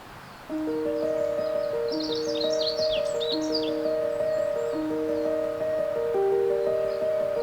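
Birds chirp and twitter in a cluster through the middle of the scene at Sutasa temple in Hongcheon, moderately distant, over a steady wash of background noise and soft sustained tones that persist throughout; no one speaks.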